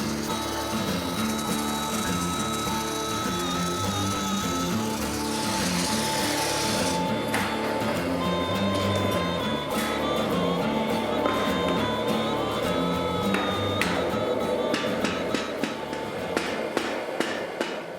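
A century-old hat stretching machine with metal fingers gripping a hat runs with steam, giving a steady mechanical rattle and clatter under a broad hiss of steam that lasts the whole stretch, close and fairly loud.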